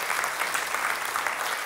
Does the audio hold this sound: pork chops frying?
no